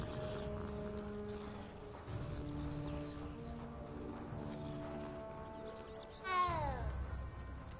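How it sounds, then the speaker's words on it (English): A cat in the video game Hogwarts Legacy lets out one drawn-out, falling yowl near the end, rising above a steady bed of sustained tonal game music. "That's a scary cat."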